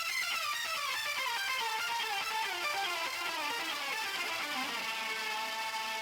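Electric guitar plays a rapid 16th-note lick through a Line 6 Helix into a generation loss pedal, a fast cascade of notes sweeping downward under heavy, washy processing, steady and alone.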